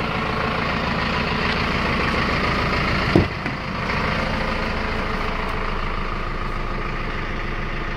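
A 2010 Hino 185 cargo truck with a four-cylinder turbo engine idles steadily nearby, a constant low diesel rumble with a brief knock partway through.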